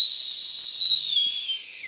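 A high, steady whistle that slowly falls in pitch, like a jet passing overhead, runs for about two seconds at strong volume and fades at the end. A voice makes the sound in imitation, with no other speech.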